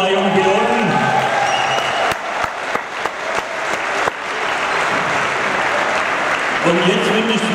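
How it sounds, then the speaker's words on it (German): A large audience applauds three young pilots at an evening air show performance in an arena. Loud, dense clapping swells and holds, with a voice and some tonal sound mixed in at the start and end. "Nochmal einen tosenden Applaus für die drei jungen Piloten."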